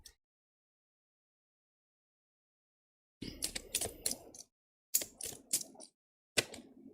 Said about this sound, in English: let's get a good shuffle in to get some clear cards